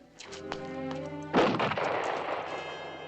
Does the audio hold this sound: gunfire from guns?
yes